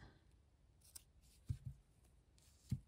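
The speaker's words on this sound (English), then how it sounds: "I'm going to cut that to a point. I'm going to just trim this point a little bit." Scissors snip ribbon to a point during ribbon-flower embroidery: a few short, close, dry cuts, two quick snips together and a third a moment later, alone in a quiet room.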